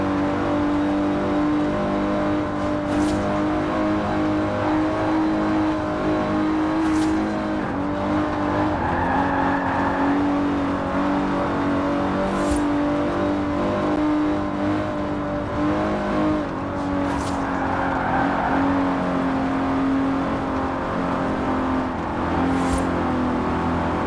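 Aston Martin DB5 Vantage from the 1960s with side-draft carburetors, racing in Forza Horizon 4: a steady engine drone that rises and falls with revving, plus occasional brief tire squeals, continuous and fairly loud.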